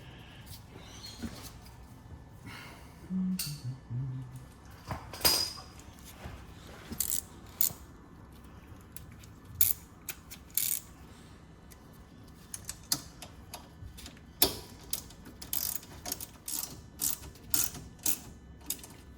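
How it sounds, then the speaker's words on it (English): A 10 mm wrench tightens a screw on a Porsche GT3/GT4 Spyder brake disc, giving sparse, close metallic ticks and clicks from the ratcheting tool in irregular bursts against a quiet workshop background, with no talking. "now we'll get the 10 mil and tighten that down"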